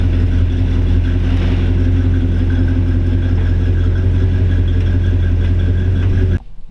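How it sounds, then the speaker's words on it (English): A 1957 Chevy 210 two-door post resto-mod V8 with a TH400 transmission, running after a cold start on a morning of about 40 degrees: a loud, steady, rumbling idle close by that cuts off abruptly at the end. "cold start. Sounds good."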